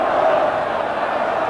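Football crowd at a 1987-88 FA Cup match between Wimbledon and Watford roaring after a goal, a steady broad wall of cheering that holds throughout, with voices rising over it.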